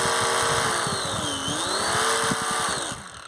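Electric motors on a balsa model Vickers Wellington bomber run up to full power, a loud, close, buzzing whine that sweeps down and back up in pitch, then starts dropping away at the end.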